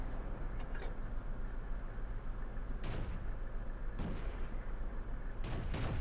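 Tank cannon shots in the World of Tanks game, from an FCM 36 Pak 40 tank destroyer, boom at steady intervals over a constant rumbling engine and battlefield drone, a handful of sharp loud reports spread across the stretch.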